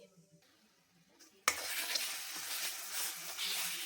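Masala spices frying in a pan, bursting suddenly into a loud broad hiss and sizzle after a quiet start and carrying on steadily at close range, with no talk.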